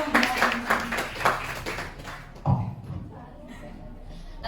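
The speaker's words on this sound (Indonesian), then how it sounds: "Boleh kasih tepuk tangannya dong buat teman kalian." Classmates clapping for a student in a class presentation, a brief burst of scattered applause that fades within two seconds, then the room goes quiet with faint talk.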